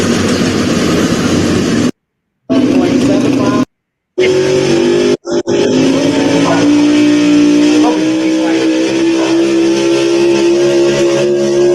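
A pulling tractor roars at full power during a tractor pull, loud and continuous with brief dropouts, the engine pitch climbing steadily as the run goes on, with crowd or commentary noise underneath.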